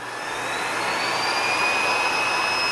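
A Miele Classic C1 canister vacuum cleaner runs on its high suction setting, giving a loud, steady, jet-like whine that swells slightly at the start and then holds constant close by.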